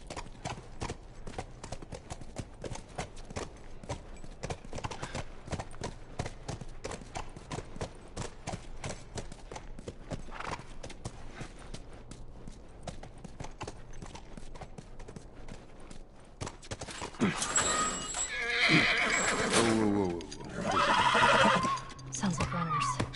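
Video game horse on PS4 with steady clip-clopping hooves throughout and a loud neigh near the end, heard under game dialogue and music.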